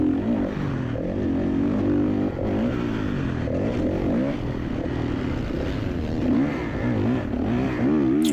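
A 2016 Kawasaki KX450 dirt bike engine revs hard during a winter motocross race in the high desert, pitch rising and falling through repeated throttle bursts, loud and close.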